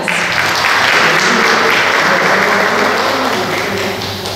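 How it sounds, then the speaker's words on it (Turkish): Audience applause fills a diabetes awareness panel hall in Atakum, Turkey, a dense, steady wash of many hands clapping at close range that holds loud for several seconds before easing slightly at the end. "Bu güzel alkışlarınız için teşekkür ediyorum"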